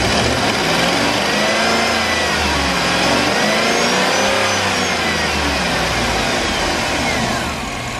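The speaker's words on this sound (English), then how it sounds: "So we'll go ahead and rev it now, and you'll hear the tick." A 2008 Chevrolet Tahoe's LS-swapped V8 revs up and holds at a high, steady drone, with a faint light lifter tick riding over the roar throughout.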